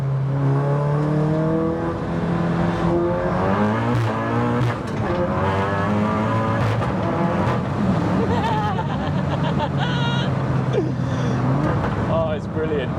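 A track-spec Mk7 Volkswagen Golf R heard from inside the cabin, its engine droning loudly throughout while the exhaust lets out pops and bangs as the revs rise and fall, with a voice talking over it.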